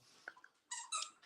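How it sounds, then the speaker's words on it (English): A dog chewing on a squeak toy indoors gives two bright, shrill squeaks in quick succession, with a few soft thumps just before them and quiet room tone around them. "Sorry about my dog. The squeak toys, man."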